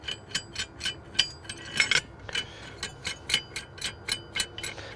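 Nut being unscrewed from a bead breaker tool, giving a steady run of sharp metallic clicks and ratcheting scrapes in an even rhythm, close and fairly quiet with no talk.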